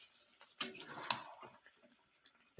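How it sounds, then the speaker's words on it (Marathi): A spoon stirs vegetable curry in a pan, with two sharp metallic clinks against the pan followed by softer scraping and shuffling, close and quiet. "आता ह्याला जरा ढवळा ढवळ करून घेतो"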